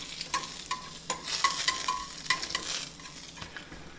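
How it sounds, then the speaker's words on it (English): Tortilla toasting in butter in a skillet, with a steady soft sizzle and a few light scrapes and stirring clicks over four seconds, fairly quiet and with no voices. "I'm going to put just a little bit more butter in my skillet and put the other"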